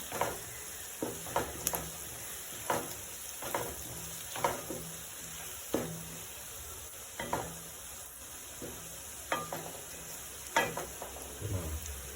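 Curry leaves and spices fry in hot oil in a pan for a South Indian fish gravy, giving a steady crackling sizzle broken by repeated sharp stirring scrapes and taps at irregular intervals, close by with no talking.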